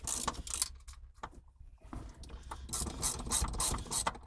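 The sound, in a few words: ratchet loosening a nut on a 3G Eclipse shifter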